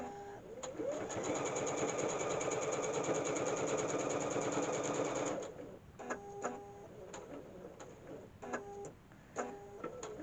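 A sewing machine quilts a fabric wall hanging, whirring in a fast, steady stitching run for several seconds, then stopping and restarting in short bursts of a few stitches with quiet gaps between.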